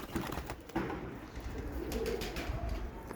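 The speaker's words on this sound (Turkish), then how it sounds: "Çok güzel kuşlarımız var abiler" Pigeons cooing softly in a loft, low murmuring calls repeating against a faint, noisy background.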